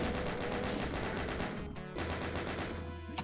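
Rapid, continuous gunfire from the video game Doom played in co-op, loud and dense with a brief gap before the shooting resumes.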